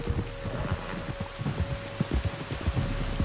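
Steady rainfall in Red Dead Redemption 2 hisses evenly throughout, with dull thumping drops and a low hum underneath and no voices.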